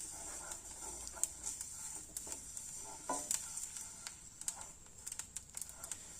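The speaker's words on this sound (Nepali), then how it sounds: "मजाले भुट्नुपर्छ मसलालाई" Cumin, fennel and other whole spices dry-roasting in a pan for lemon pickle, a faint steady sizzle with soft scraping and tapping of a spoon stirring, quiet and close, no talk.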